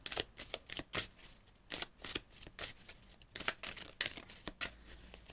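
Playing cards drawn and shuffled for a reading, giving rapid, close, crisp riffling and flicking in irregular bursts with no talking.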